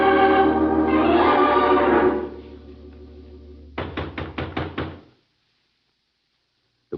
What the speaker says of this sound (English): There was no answer to my knock.